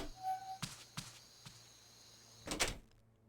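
An apartment door opens as an audiobook sound effect. A few dull knocks and clicks give way to a louder creaking, scraping swing near the end, close and with no voices.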